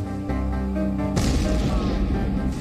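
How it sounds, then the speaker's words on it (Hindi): An explosion in an auto-rickshaw on a street in Mangaluru, Karnataka, during normal evening traffic: a sudden loud broadband burst about halfway through, over a steady tonal background. "शाम को ट्रैफिक एकदम सामान्य था, लेकिन अचानक एक ऑटो में धमाका हो गया।"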